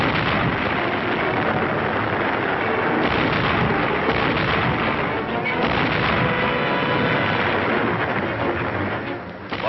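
A WWII 105mm howitzer battery fires together, a dense, loud, continuous rumble of booming discharges that rolls on without pause for nearly ten seconds.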